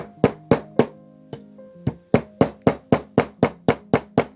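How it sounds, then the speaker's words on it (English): A hammer strikes a metal screw hook repeatedly to start it into wood, sharp ringing taps: a few spaced blows, then a quick steady run of about ten hits, close and loud. "I take a hammer and I just hit it."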